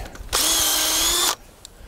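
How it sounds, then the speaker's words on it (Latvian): A common farm power drill bores a shallow hole into a maple tree to tap sap in rural Latvia, giving one steady high-pitched whir of about a second that starts and stops abruptly, loud and close, with no talking. "Sulu tecināšanai saimnieks izmanto pavisam pārastu saimniecības urbi, kokā veicot vien pāris centimetru dziļu urbumu"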